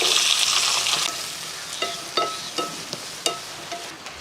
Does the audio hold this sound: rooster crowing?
no